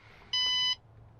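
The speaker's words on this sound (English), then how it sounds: "Yeah, beep." A single steady electronic beep from a camper van's electrical system, high and pure-toned, lasting under half a second against a faint background hum.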